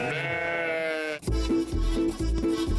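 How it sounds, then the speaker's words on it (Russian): A sheep bleats in a long wavering call, followed by a series of shorter rhythmic bleats close to the microphone, loud and with no talk. "Это ж овечка, как овечка, не скажет ни словечко."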